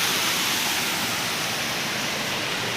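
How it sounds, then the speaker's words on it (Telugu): A large waterfall roars with a steady, dense rush of falling water, close and continuous with no voices over it. "క్రేజీ ఉంది ఇక వాటర్ ఫాల్స్,"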